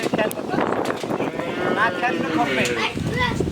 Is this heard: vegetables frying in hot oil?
no